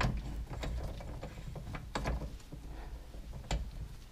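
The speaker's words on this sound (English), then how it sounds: "I'm just going to tighten that castle nut down to the outer bearing" A hand tool tightens a castle nut against the outer bearing on a wheel hub, giving a series of faint, irregular metallic ratchet clicks close by in a quiet room.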